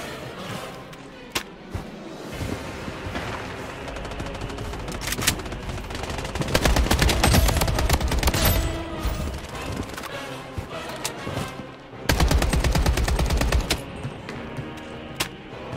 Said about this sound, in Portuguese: Tem outro cara, velho, me atirando.